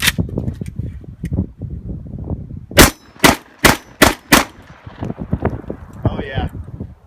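Five quick, loud, evenly spaced blasts from a Vepr-12 shotgun with a muzzle brake firing 3.25 dram ammo, set between stretches of talking.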